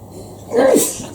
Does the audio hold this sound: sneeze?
yes